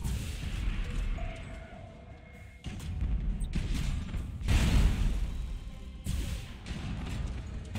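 Starship weapons barrage in the space combat game Battlefleet Gothic: Armada 2: repeated heavy booming volleys with whooshing blasts arriving in distinct waves over a low rumbling background.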